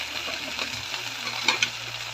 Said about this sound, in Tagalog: Kasi halo-haloin natin yan sa kagata.